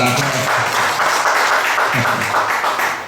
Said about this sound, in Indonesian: Tepuk tangan untuk Mas Agus